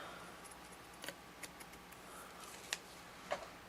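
Fabric scissors cut through ribbon with a few faint, brief snips and light clicks spread over a few seconds in a quiet room.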